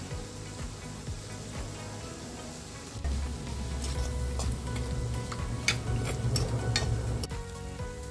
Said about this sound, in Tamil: இதுமாரி திருப்பி போட்டு வறுத்து எடுத்துக்கணும் கொஞ்சம் லைட்டாக